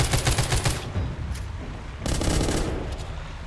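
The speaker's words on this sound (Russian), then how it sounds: "Прям возле ракеты стреляю" Gunfire from the mobile zombie shooter game The Walking Zombie 2, fired at close range in a boss fight beside a rocket: two loud rapid bursts of shots separated by a short lull.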